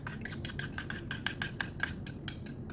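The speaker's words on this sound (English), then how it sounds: "Here I'm adding some garlic into the pan first." Garlic going into a pan for stir-fried asparagus comes with quick repeated metallic clinks and taps of a utensil against the pan. The taps are steady and moderately close, with a low background hiss and no talk.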